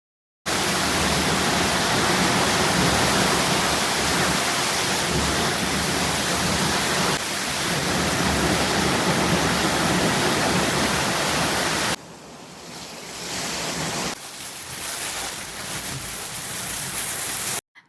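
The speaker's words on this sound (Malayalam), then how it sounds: "ഇനിയിപ്പോൾ ദേ നല്ല ഹെവി മഴയാണ്. ഞാനൊന്ന് സൗണ്ട് കേൾപ്പിച്ചു തരാം" Heavy rain pours down in a dense, loud, steady roar that fills most of the stretch, then abruptly thins to a softer hiss before building again, with no voices.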